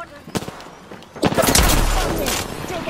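Gunfire bursts from an Apex Legends match: a couple of sharp shots early, then from about 1.2 s a loud, sustained barrage of rapid fire and impacts filling the rest of the clip, with a voice talking over part of it.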